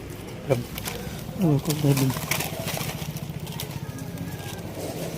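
Birds call and coo outdoors at dusk in a village, with a motor humming nearby and people talking over the scene.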